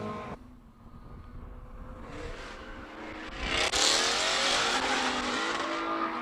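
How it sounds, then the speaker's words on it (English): A Ford Mustang with an American V8 engine revs at the start of the Cape Town hillclimb, first a low burbling idle, then rising throttle blips swelling into a loud, roaring launch with tyre noise that holds near and strong. "Glorious sound of American V8"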